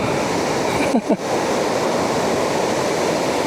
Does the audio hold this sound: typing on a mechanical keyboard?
no